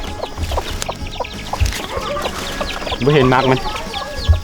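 Chickens cluck repeatedly near a coop in a backyard garden, a rising run of clucks standing out near the end, with a person speaking briefly over the farmyard sounds.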